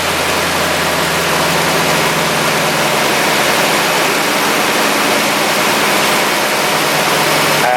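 Engine fitted with a Rough Country cold air intake running loud and close, a dense steady roar with a low rumbling undertone and no clear separate revs.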